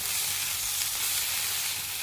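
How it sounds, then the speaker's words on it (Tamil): Drumstick flowers frying and being stirred in a pan, a steady close sizzle with soft scraping throughout and no voices. "நல்லா மிக்ஸ் பண்ணி விட்டுக்கலாம்."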